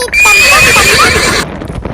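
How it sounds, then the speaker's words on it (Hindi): Horse neighing in a children's Hindi rhyme, one loud drawn-out whinny close up with faint hoof clip-clop beneath, fading into quieter sound at the end. "दौड़ा दौड़ा दौड़ा घोड़ा दुम दबा के दौड़ा"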